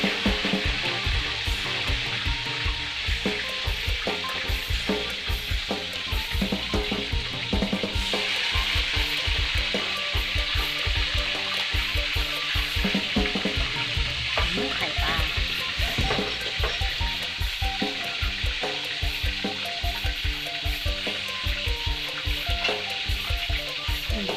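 Thai sour curry with snakehead fish cooks in a pot, a steady, dense bubbling and sizzling that runs continuously at close range with dozens of small pops and no voices.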